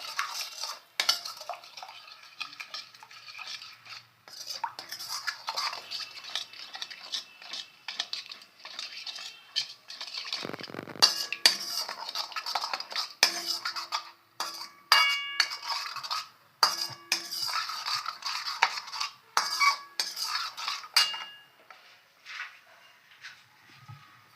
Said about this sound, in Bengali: একটু নাড়তে হবে যাতে দইটা কেটে না যায়